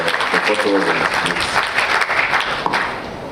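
Sustained applause from the audience at a heads of procurement and supply chain forum, a dense wash of clapping that fades toward the end, with voices mixed in beneath.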